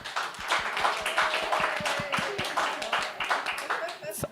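Crowd claps in a room during a live rate-the-hate challenge, dense irregular hand claps sustained throughout with voices talking faintly underneath, near and moderately loud.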